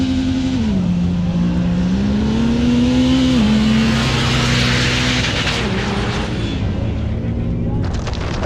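Several 1000 naturally aspirated class cars race on a dirt track at a Dirtfest event, engines revving and droning loudly with rising and falling pitch as they pass, with crowd-like noise and wind throughout.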